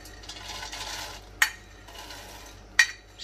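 Fried sweet boondi being stirred into sugar syrup in a pan with a spoon: a soft, continuous wet scraping and swishing, broken by two sharp clinks of utensil on the pan.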